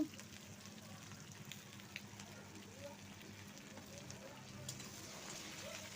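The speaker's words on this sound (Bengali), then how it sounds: "মিডিয়াম টু লো ফ্লেমে রেখে আলু আর পটলটি ভেজে নেব" Cubed potatoes and pointed gourd fry with salt and turmeric in a pan over medium-low flame, giving a soft, steady crackle and sizzle that stays quiet and even throughout.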